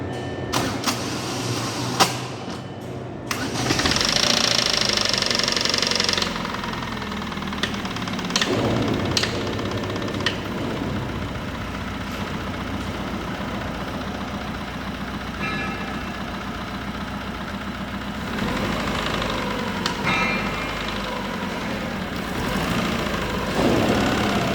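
A used contract car engine runs steadily at idle with a continuous mechanical hum and some ticking, recorded up close for a long stretch with no speech over it.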